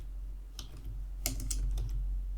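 A few quick clusters of keystrokes on a computer keyboard, faint and close over a steady low hum, with no talking.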